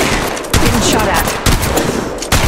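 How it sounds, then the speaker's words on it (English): Rapid gunfire rattles through Apex Legends Mobile combat, dense overlapping bursts of shots at loud, steady volume with sharp repeated onsets across the whole stretch. "Getting shot at."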